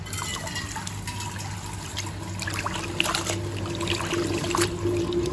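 Rice is washed in water before cooking, the grains swishing and water trickling and sloshing in a pot, a steady close wet stirring sound with a faint hum beneath.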